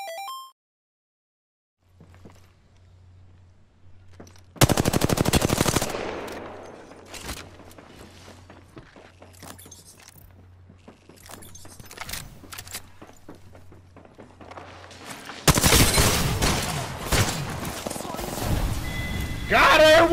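In the video game Apex Legends, a loud burst of gunfire breaks out, scattered shots follow, then a second heavy blast that could be the grenade, with players talking over the action.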